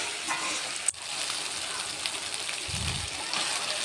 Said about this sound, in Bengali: লাল করে ভাজা হয়ে গেছে পেঁয়াজ টমেটো। তার ভেতরে মশলা দিয়ে একটু কষিয়ে নিয়ে